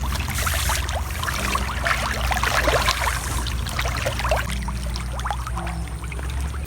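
Fish feed is poured by the scoop into a tilapia pond, a splashing, trickling pour onto the water surface over a low steady background hum.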